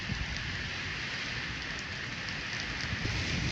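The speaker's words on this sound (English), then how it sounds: "And it was meant to be raining on my first day." Rain falls as a steady, even hiss of drops with no breaks, moderately loud and without voices.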